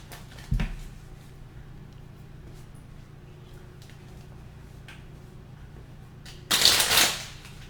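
Tarot cards riffled in a quick, loud burst near the end, after a soft tap at the start and a stretch of quiet room tone.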